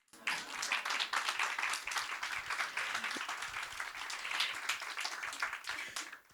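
Audience applause rising and continuing steadily from a studio crowd at a talk show, dense clapping throughout with no pause, fairly close and full.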